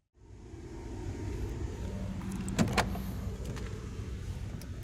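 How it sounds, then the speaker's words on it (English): A powered front passenger seat in a 2017 Lincoln Continental runs its motor with a steady, close low whir for several seconds, broken by a couple of faint clicks partway through. "Powered front passenger seat."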